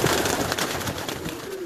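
Pigeons cooing inside a large loft, several soft throaty coos close by over a busy background of bird calls and flutter.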